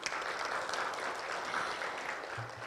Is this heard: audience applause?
yes